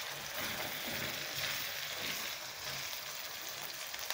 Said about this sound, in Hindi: और इसे भूनेंगे हम